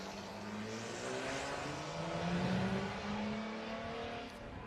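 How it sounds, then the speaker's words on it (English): A Jaguar D-type replica race car with a 4.2-litre engine revs and accelerates at a grassroots sprint meeting, a rising engine note heard from a distance, fairly faint under broad outdoor noise. "Here's a D-type replica."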